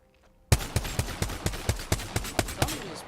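A G7 semi-automatic rifle firing in a shooter game, fired in a steady run of about a dozen sharp, punchy shots that start abruptly after a quiet moment, close and loud with no talking.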